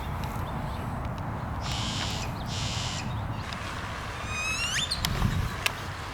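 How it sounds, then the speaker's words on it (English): Noisy birds call in a Las Vegas cemetery, with hoarse, scratchy calls and a few sharp chirps over an outdoor background hiss, with no one speaking. "Hear those noisy birds, Schmoop?"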